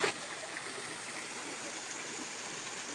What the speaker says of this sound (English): can y'all tell me are the waterfalls too loud?